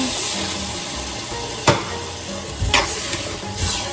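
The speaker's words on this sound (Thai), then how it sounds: "ผัดจนไข่แห้งนะคะ" Egg is stir-fried in a hot pan for a Thai bitter melon chilli dish, a loud continuous sizzle broken by a few scraping strokes of the spatula, close and without speech.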